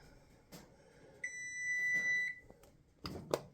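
A kitchen oven timer counts down while muffins bake at 425 degrees. It sounds one long, clear electronic beep, framed by faint kitchen clatter and soft thumps.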